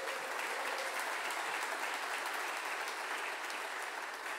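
A church congregation applauds for Jesus during a sermon, a steady, even wash of many hands clapping at moderate volume that continues without a break.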